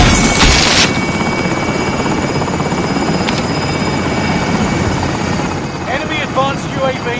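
Helicopter hovering overhead in a military shooter video game, a loud continuous rotor thrum filling the whole stretch, with faint chirping effects near the end.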